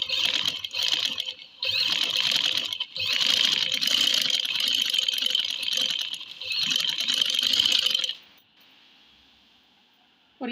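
A sewing machine stitches a double seam along a men's kurta, a steady loud mechanical whirring run in several bursts with brief pauses, stopping near the end into quiet.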